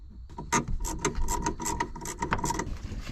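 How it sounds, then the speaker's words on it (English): Ratchet wrench clicking while loosening a 10mm bolt on a Jeep Wrangler taillight, a rapid series of sharp metallic clicks and ticks, close and fairly loud, no talking. "Take a 10mm, let's take the bolt out that holds it in"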